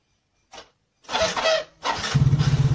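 A motorcycle's electric starter motor cranks the engine with the starter button bypassed, giving a short whir, a pause, then a longer grinding crank and a steady rhythmic chugging close by, with no talk.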